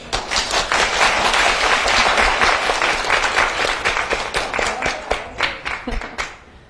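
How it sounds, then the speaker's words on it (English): Audience applauds an interpreter at a B2B digital marketing presentation, a dense burst of many hands clapping that stays steady, then thins into scattered claps and fades out. "I'd especially like to give An a big round of applause for her amazing interpretation today"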